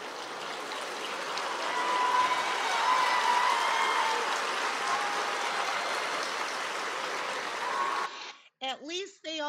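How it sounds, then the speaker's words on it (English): Graduation audience applauding, a dense steady wash of clapping that swells and holds for about eight seconds before cutting off, followed by brief talk. "At least they all applauded for her anyway"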